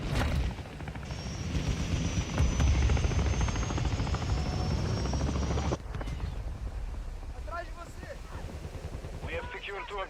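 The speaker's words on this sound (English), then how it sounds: "Friendly chopper gunner servicing target." A helicopter in Call of Duty Modern Warfare II drones loudly and steadily with a whining rotor tone, while bursts of gunfire and game voice lines sound over it. The engine noise cuts off partway through and quieter game sounds follow.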